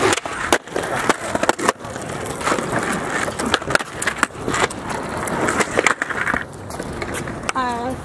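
A skateboard rolls near a school with a steady, gritty wheel roar and sharp clacks and bumps over the surface, loud and close, with a short voice near the end.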